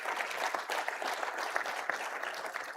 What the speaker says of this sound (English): Would you please give all of our sponsors another round of applause for making this possible?